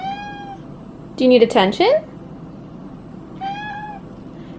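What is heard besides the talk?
cat meowing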